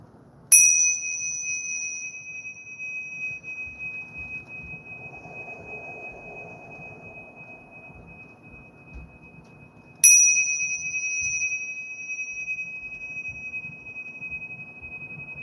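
A frequency fork is struck twice, about ten seconds apart, each strike giving a bright metallic ding that rings on as a long, slowly fading pure tone over a quiet background.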